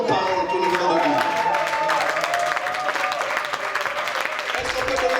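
Church congregation applauding and cheering loudly at a service, a dense wash of clapping with voices calling out throughout.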